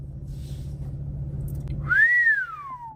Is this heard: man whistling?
yes